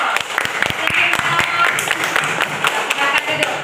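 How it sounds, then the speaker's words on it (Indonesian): Schoolchildren in a classroom applauding a student group after its project presentation, a loud, dense burst of many hands clapping steadily throughout, close and lively. "Tepuk tangan dulu."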